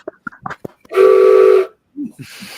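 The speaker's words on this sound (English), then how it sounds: "train whistle theme." A train whistle sound effect blows one sustained hissing steam-style tone lasting under a second, loud and near, with brief speech before and after it.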